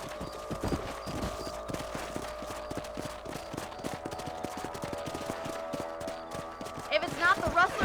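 Horse hooves in the Red Dead Redemption video game, a steady rhythmic clip-clop of a galloping horse, close and continuous over a ranch soundscape, with a brief louder burst near the end.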